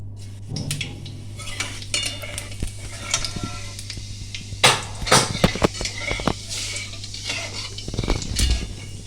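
Cumin seeds tempering in hot oil in a wok, a crackling sizzle with metal utensil clinks and scrapes scattered throughout, over a steady low electrical hum.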